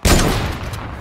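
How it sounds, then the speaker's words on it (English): Video game gunfire bursts in as a single loud, close blast that rings on briefly and fades over about a second. "I'm getting sniped from everywhere."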